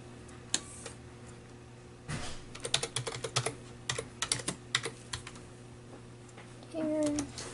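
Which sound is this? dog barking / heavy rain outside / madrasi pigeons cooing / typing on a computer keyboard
typing on a computer keyboard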